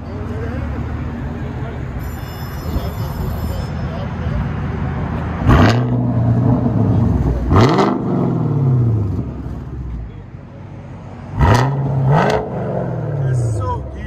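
A 2021 Chevy Camaro LT1 with a 6.2L V8 and straight-pipe exhaust revs hard three times, each blip a deep, loud rising roar that falls back to a throbbing idle. Someone talks over the engine between the revs.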